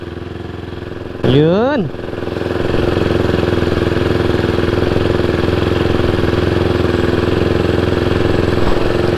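Husqvarna 401 motorcycle engine with its silencer removed running an open pipe, a quick rising rev blip followed by a loud, steady, close idle rumble; a brief word is spoken.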